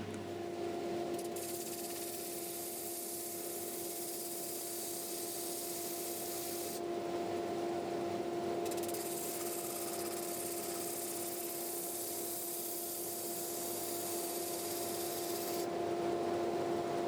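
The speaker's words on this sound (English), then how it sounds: "we are now going to get to the disc sander, and we'll work through the grits with that" A disc sander works a small wooden toy car body, a steady droning whine with continuous rubbing abrasion that rises and falls in brightness as the wood is pressed on and eased off, running without pause throughout.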